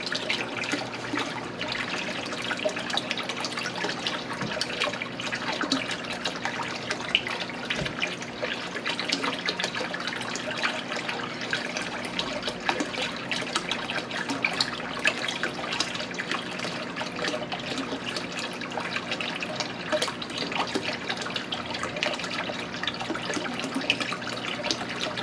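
A bait tank filter pump circulates water steadily throughout, a continuous close splashing and trickling flow like a running tap, even and unbroken with no talk.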